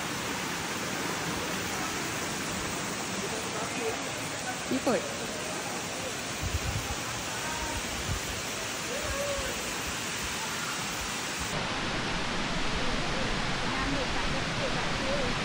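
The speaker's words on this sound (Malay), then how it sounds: "Air terjun ni memang terkenal dengan bentuk semula jadinya yang unik." Steady broadband roar of a natural hill waterfall on a ride from Sungai Petani to Satun, Thailand, continuous and close throughout, with a brief spoken word partway through.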